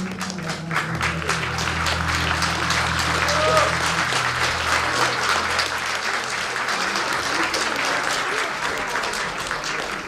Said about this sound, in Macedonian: Аплауз, браво, девојчиња